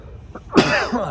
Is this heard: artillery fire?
no